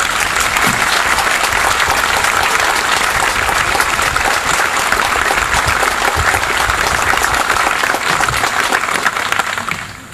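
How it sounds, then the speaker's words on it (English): Sustained, dense applause from an outdoor crowd at a city Memorial Day ceremony on Veterans Memorial Island, steady and loud for about ten seconds before easing off at the end. "How about another round of applause?"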